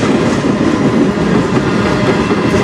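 A CN manifest freight train hauled by CN 3155 and CN 3049 locomotives rolls steadily past on track in Sarnia, Ontario, a loud, continuous rumble of railcars with faint wheel clatter and no voices.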